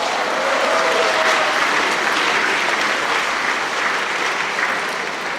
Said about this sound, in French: Je pense qu'on peut les applaudir et féliciter.